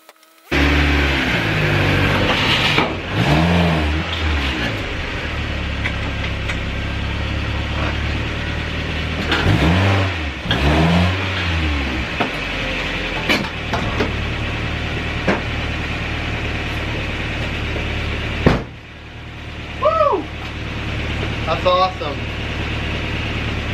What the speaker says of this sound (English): I'm gonna drive Baja Miata right up these suckers